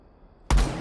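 A single hip-fire blast from the ITA secondary shotgun in Rainbow Six Siege, a sudden loud close boom after a moment of near silence, with a short fading tail.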